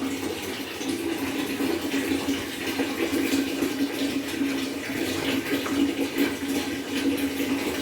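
Water splashing and pouring while someone is bathed, a steady, fairly loud wash of running and sloshing water continuing for several seconds without pause.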